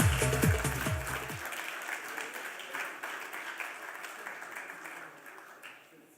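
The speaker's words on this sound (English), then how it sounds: "A big round of applause for Sandip Das." An audience at an award ceremony claps steadily for an award recipient, with sustained applause lasting several seconds before tapering off, while a brief musical flourish plays at the start.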